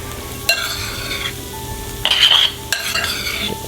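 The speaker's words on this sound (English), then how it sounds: "Get this all stirred together." Lasagna soup ingredients stirred in a pot, with several close scraping, sloshing strokes and a brief clink partway through, over a steady low hum.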